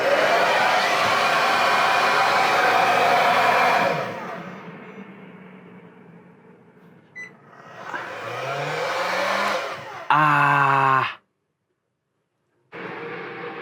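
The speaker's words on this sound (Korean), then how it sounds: "드라이기" A hair dryer powered through a camper van inverter blows steadily and loudly, cuts out and restarts with a faint whine, then switches on again at higher speed before abruptly stopping.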